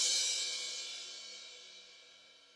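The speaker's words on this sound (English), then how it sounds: "But a crash cymbal is going to sound like this." A crash cymbal on a drum kit is struck once, a bright bursting wash that rings out and fades slowly over a couple of seconds, close and alone.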